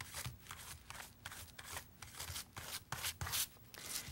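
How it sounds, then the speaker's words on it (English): A brush sweeps excess cement powder off a stained glass lead panel in a quick series of soft, scratchy strokes, each a short dry swish, close and quiet with no talking. "the next thing that you're going to do is just brush off the extra powder"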